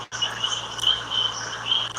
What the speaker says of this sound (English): All right, so Afro, speak up, because these frogs are loud as shit